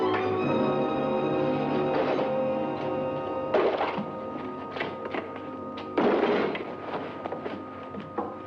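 Heavy thumps from two men being dropped on their heads in a 1940s thriller, landing with dull impacts near 3.6 and 6 seconds over a continuous music bed, with no talk.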